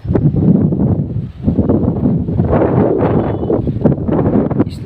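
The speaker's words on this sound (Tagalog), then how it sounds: "Lakas din yung hangin." Strong wind buffets the microphone on a beach at Boracay island, a loud continuous roar with gusty swells and no speech.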